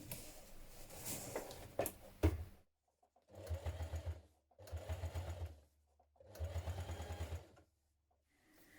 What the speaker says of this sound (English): we are going to top stitch down both these long edges either side